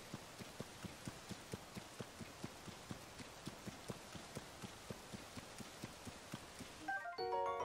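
Soft, steady rain falls in Zelda: Tears of the Kingdom, a faint hiss layered with evenly spaced tapping steps, ending in a brief bright chime.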